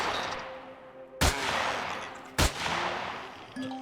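Two sharp, loud weapon shots from the space survival game Empyrion Galactic Survival, spaced about a second apart, ringing out over a steady hum of game ambience, with a brief electronic tone near the end.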